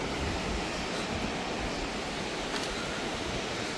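Sinulom Falls, a waterfall in Misamis Oriental in the Philippines, gives a steady, dense broadband roar of falling water that stays even and continuous throughout, fairly loud with no voices.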